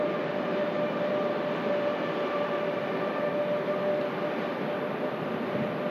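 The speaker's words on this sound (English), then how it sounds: "That Dreamliner making a racket again." TUI Boeing 787 Dreamliner jet engines at Manchester Airport, a loud steady roar with a whining tonal hum, continuous and unbroken with no voices.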